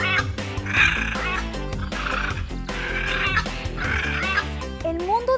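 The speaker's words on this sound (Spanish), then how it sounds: "lo que nunca había escuchado era un coro de guacamayas" A chorus of macaws calling in a dense, overlapping mass of harsh squawks and shrieks. The calls come in repeated bursts, layered over steady low tones, loud and continuous throughout.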